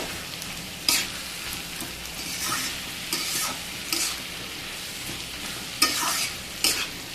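Vegetables cooking with sesame seeds and whole chillies for a vegetarian dish fry in a pan with a low, steady sizzle, broken by about half a dozen brisk scraping stirs spaced a second or so apart; no speech.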